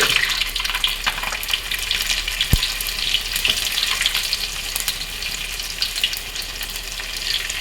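Fennel seeds, cumin and garlic frying in hot oil with mustard seeds and urad dal, giving a steady, loud, close sizzle and crackle throughout with no talking.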